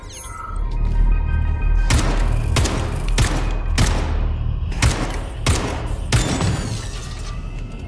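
Gunfire aimed at robots in the video game Atomic Heart: about seven loud, sharp shots spaced roughly evenly, each a heavy booming crack over a low rumbling backdrop.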